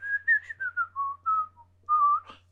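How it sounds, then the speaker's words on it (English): A tin whistle plays a short, lilting baroque-folk melody from a song, clear bright notes sliding down then rising, solo and close. "is it a tin whistle or the penny whistle or something? It's not a flute."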